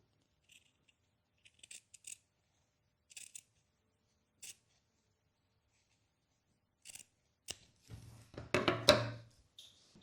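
Scissors cutting terry towelling fabric during dressmaking, heard as sparse, faint snips and clicks with long quiet gaps, ending in a louder run of rustling cuts.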